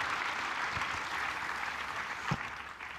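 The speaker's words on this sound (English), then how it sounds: "Give them all an applause." Applause from a panel discussion audience welcoming panelists, steady and fairly faint, heard from a distance, with a brief louder clap near the end.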